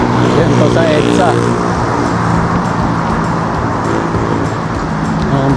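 Dense road traffic on EDSA in Metro Manila, a steady close roar of car and motorcycle engines with tire noise, a voice speaking over it.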